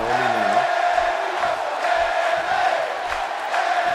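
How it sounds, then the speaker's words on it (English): Crowd in a wrestling arena in the video game WWE 2K18 cheers and roars steadily throughout, a broad wash of voices, with a commentator talking briefly at the start. "The crowd now showing their love for Bayley."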